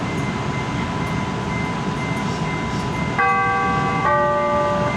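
CTA Blue Line train bound for O'Hare, a steady rumbling rail noise throughout with a sustained two-tone chime ringing out near the end, close and loud.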